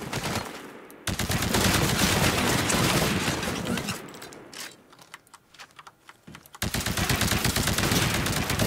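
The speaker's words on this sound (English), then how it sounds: "Destroy the Titan with your anti-Titan weapon." An anti-Titan weapon fires at a Titan in the video game Titanfall: loud, dense, rapid bursts of gunfire and explosive crackle fill most of the clip, with a brief quieter lull near the middle before the firing resumes.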